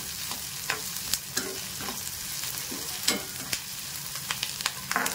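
Onion fries in a pan with a continuous close sizzle for a raw mango chutney, broken by irregular scraping stirs of a spatula, and no voices are heard.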